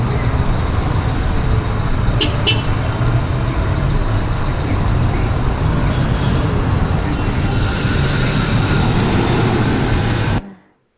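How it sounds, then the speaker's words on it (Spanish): Steady, loud urban roadway traffic on a busy city street, with vehicles rumbling continuously and a couple of brief horn-like blips, running unbroken for about ten seconds before cutting off abruptly. "es totalmente con mucha contaminación, bocinas, alarmas, sonido de frenos de autos y lo que yo lo denomino el festival de bocinas"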